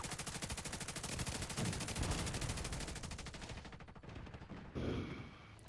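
Sustained automatic gunfire in the video game The Division 2 hammers out as a long, rapid, steady stream, then stops. One shorter burst follows near the end.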